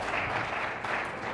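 A pool audience at the 1997 Mosconi Cup gives a short burst of steady applause, moderately loud with no talking over it.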